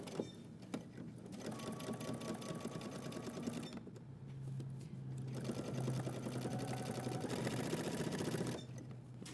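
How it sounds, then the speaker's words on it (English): A sewing machine stitches a trouser seam up to a pocket opening, two loud rapid runs of rhythmic needle clatter separated by a brief pause, with a short backstitch burst at the end. "I'm going to stitch up until I get to my dot here, leaving an opening for the pocket."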